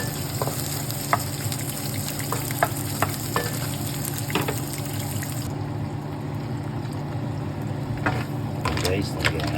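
Ginger fries in a pan after rice, giving a steady close sizzle with scattered clicks and scrapes from stirring; a voice speaks over it at times.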